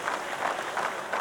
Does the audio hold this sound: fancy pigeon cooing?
no